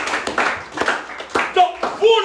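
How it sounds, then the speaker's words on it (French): Scattered clapping from a church congregation, sharp separate hand claps in a loose rhythm, with a voice speaking and calling out over them near the end. "applaudissons d'abord pour notre Dieu"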